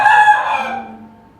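An Aseel rooster, a long-legged fighting breed, crows once loudly and close by, a strong strained call that trails off over about a second with no talk.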